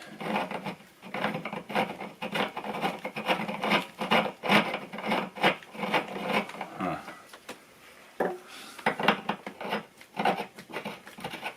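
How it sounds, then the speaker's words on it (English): Galvanized plumbing pipe threaded into a floor flange for shelving, a repeated close-up metallic rasping and scraping in uneven strokes, with a short pause partway through. "you could just basically screw these right inside of the floor flange"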